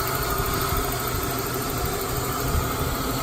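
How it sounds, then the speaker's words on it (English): A Ford Falcon EF/EL engine idles steadily while warming up after an alloy radiator install, a continuous close mechanical hum and rumble with no talk over it. "I'm just running the engine just to warm it up, circulate the coolant and check for leaks"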